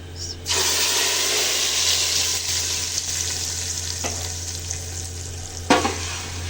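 Hot baghar of oil, whole red chilies and chopped almonds bursts into loud, continuous sizzling as whole masoor lentils go in, with a few sharp spatters and clinks partway through.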